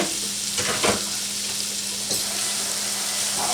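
Chicken curry browns in a pan with a constant close frying sizzle and a couple of soft stirring scrapes.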